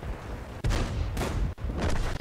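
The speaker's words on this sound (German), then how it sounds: "Wow, Alter, hier neben mir ist einer explodiert." Heavy booming blasts and rumbling gunfire from World of Tanks, a tank exploding nearby, with loud low thuds and sharp cracks packed close together.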